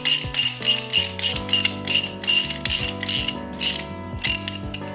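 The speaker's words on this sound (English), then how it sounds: "I was able to get the nut to go all the way down all the threads and kind of clean them up like this." A ratchet clicks in steady repeated strokes, close and loud, as a nut is run down worn, used threads to clean them on a wrecked drift car being repaired, each swing a fast rattling burst.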